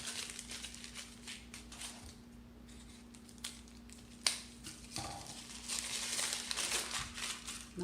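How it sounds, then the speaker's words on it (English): Scissors trim a paper cake pan liner down to size, close by and fairly quiet, with a run of crisp snips and paper crinkling and rustling between cuts. "It's a little large, so I'm going to cut it down a little more."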